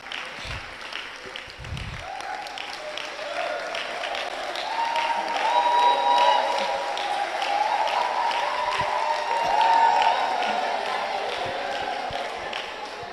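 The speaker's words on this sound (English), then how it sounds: "Please give them a round of applause." An audience at a live event breaks into sustained applause, steady massed clapping that swells and holds for several seconds, with some thuds at the start and faint voices underneath.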